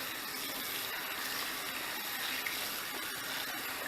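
Water runs and splashes steadily as a knitted acrylic item is rinsed free of soap, a continuous close hiss of flowing water with no voices.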